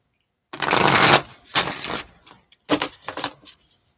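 A tarot deck shuffled by hand, giving a loud riffle burst followed by several shorter flutters and slaps of cards, close and crisp against silence.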